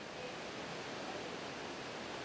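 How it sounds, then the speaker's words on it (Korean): A steady, even rush of falling water at Devi's Falls in Nepal, continuous and fairly faint, with no other sounds. "시원스레 떨어지는 데비스 폭포의 물줄기와 아래쪽 계곡까지"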